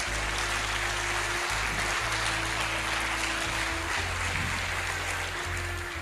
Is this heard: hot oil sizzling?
no